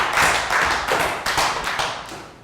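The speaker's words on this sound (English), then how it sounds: "High five and a round of applause for Bell." A short round of applause from students in a Year 3 maths class, a few seconds of close, uneven clapping that fades out.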